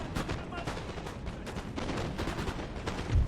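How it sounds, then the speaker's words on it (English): Cannon fire in the Napoleonic-era game Napoleon: Total War: loud, dense booms and crackling battle noise that never lets up, with distant gunfire layered throughout. "These cannons should do plenty of damage for us."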